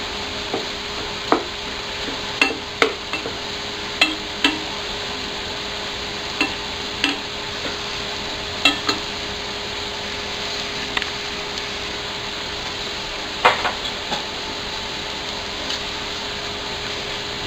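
Ingredients are stirred in a cooking pan, the utensil knocking and scraping against it in irregular taps over a steady background hum.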